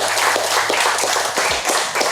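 A small group claps at the close of a podcast recording, a brief burst of brisk, uneven handclaps heard near and alone for about two seconds.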